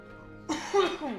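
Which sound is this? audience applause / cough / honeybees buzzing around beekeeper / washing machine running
cough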